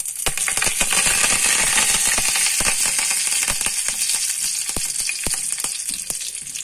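Mustard seeds and curry leaves hit hot oil for dhokla tempering, loud continuous sizzling with rapid sharp pops and crackles of seeds bursting close by, gradually settling, no talk.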